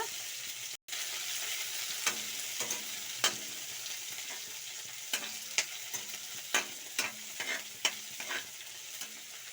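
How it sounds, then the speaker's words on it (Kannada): Chopped onions frying in a pan for mushroom chilli, a low even sizzle broken by repeated spatula scrapes and taps that come more often toward the end, with no talking. "ಇವಾಗ ಕಟ್ ಮಾಡ್ಕೊಂಡಿರೋಂಥ ಈರುಳ್ಳಿ ಹಾಕೊಳ್ಳಿ ಈರುಳ್ಳಿನೂ ಫ್ರೈ ಆಗಬೇಕು"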